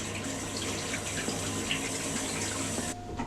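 A bathroom faucet runs in a steady, full gush into a sink while face mask residue is rinsed off, close and unbroken until the flow is shut off near the end.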